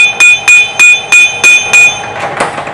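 Six crisp, evenly spaced metallic hammer taps ring out close and loud, seating supplied shims during a CPP rear big brake install on a hot rod, followed by a softer knock after a short pause.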